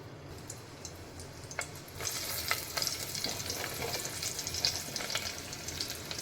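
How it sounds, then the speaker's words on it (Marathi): Crushed garlic dropped into hot oil in a cooking pot bursts into a steady, close crackling sizzle after a quieter start, with a few clinks of stirring. "त्यात थोडं तेल आणि ठेचलेला लसूण टाकूया."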